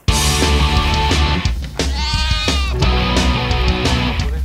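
Sheep bleat loudly and repeatedly at close range on a Central Java farm, several wavering calls overlapping one another against a constant background hum, with no talking.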